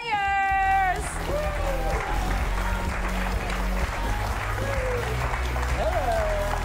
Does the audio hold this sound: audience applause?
yes